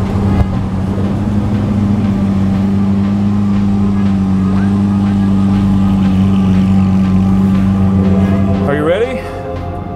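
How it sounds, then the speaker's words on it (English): A Lamborghini Aventador Roadster on a runway roars with a loud, sustained engine drone under continuous talking, its tone rising sharply near the end. "That is going from 0 miles an hour to 100 miles an hour,"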